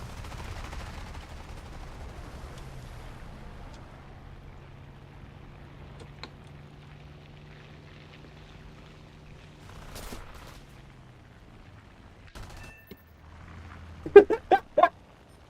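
Aircraft gunner's machine gun fire in the combat flight game War Thunder, a low steady drone building to a few sharp, loud bursts near the end.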